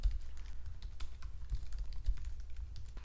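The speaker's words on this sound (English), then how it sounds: "here, I'm just gonna type in a few of my friends." Rapid typing on a computer keyboard, a steady patter of close, crisp key clicks with a few heavier strokes, quiet and continuous without any voices.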